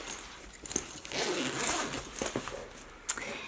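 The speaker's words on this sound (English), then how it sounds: "unzip the zipper pulls all the way" Zipper pulls on a fabric loop from a sewing project are drawn open by hand, giving a close, scratchy zipping sound with a few small clicks along the way.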